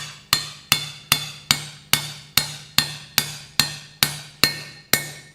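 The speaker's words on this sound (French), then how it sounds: "avec notre marteau, on va venir taper ici" A hammer strikes a tool to seat valve parts during the engine rebuild of a Peugeot 307 HDi, twelve sharp metallic blows at a steady, even rhythm, each ringing briefly before the next.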